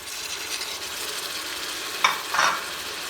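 Chopped tomatoes drop into medium-browned onions in a pan for a village-style desi chicken curry, a soft background sizzle broken by two sharp, brief hissing bursts as they hit the hot oil, followed by stirring.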